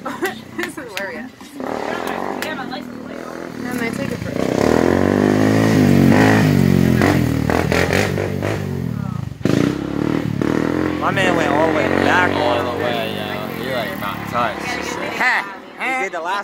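A Kawasaki Z400 motorcycle engine revs up and down in rising and falling sweeps, loud and close, with people talking over it throughout.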